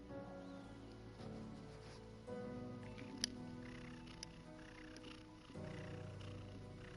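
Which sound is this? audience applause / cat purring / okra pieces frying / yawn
cat purring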